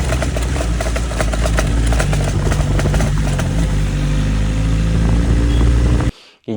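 A motorcycle engine chugs loudly and close by, with repeated rattling clanks as it rides over a speed breaker, before it cuts off abruptly.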